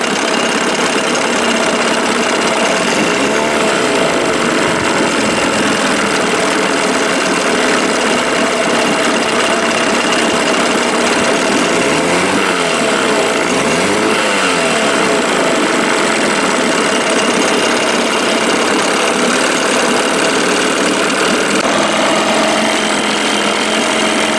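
A 1987 Johnson 6 hp outboard motor runs hot and steady, a loud, continuous buzzing drone with a slight rhythmic knock that fills the whole span.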